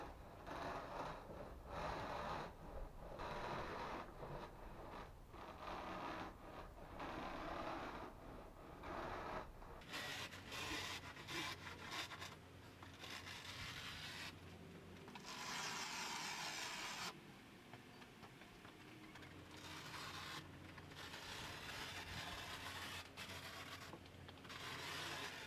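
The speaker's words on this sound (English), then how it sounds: "another alternative to the pinwheel is this carpet seamer, and you can use it as well and make it go a little faster" Carpet seamer wheel rolled across foam to press divots into it, a continuous scratchy rubbing and rasping in repeated strokes, close and fairly faint.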